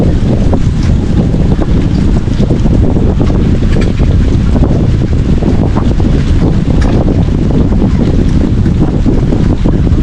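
Steady, loud wind buffets the microphone at a resort on a hot day, a constant low roar with gusty rumble and no one speaking.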